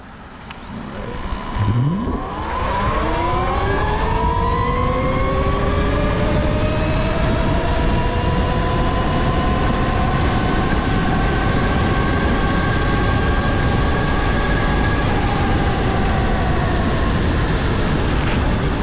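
An Altis Sigma car accelerating hard in race mode, with a loud engine and drivetrain note rising steadily in pitch, then holding a sustained high whine at speed, close and continuous without talk.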